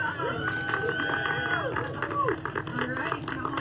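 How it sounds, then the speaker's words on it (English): A crowd cheers and claps at a Blue Origin New Shepard rocket capsule landing, steady outdoor applause and whoops under a speaking voice, with a sweeping whistle-like tone drifting through. "Some thunderous applause is always a good sign."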